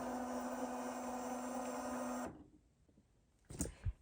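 An embroidery machine stitching a navy sampler block in a hoop, a steady mechanical whir with a pitched hum that stops abruptly partway, followed by quiet and two short clunks.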